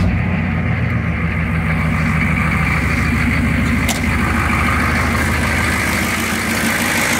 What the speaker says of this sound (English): you're going to start your truck up and see if the cap blows off